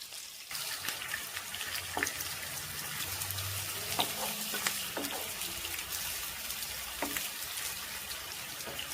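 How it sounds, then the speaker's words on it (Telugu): Onions frying in hot oil in a pan for a coconut mutton curry, giving a steady close sizzle and crackle with scattered pops throughout, and no one speaking. "ఈ ఆనియన్స్ అనేది మంచి గోల్డెన్ బ్రౌన్ వచ్చేదాకా మనం వేపుకోవాలన్నమాట."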